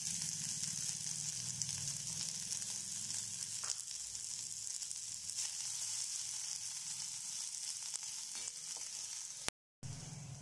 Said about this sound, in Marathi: कांदा लाल करून घ्यायचा आपल्याला.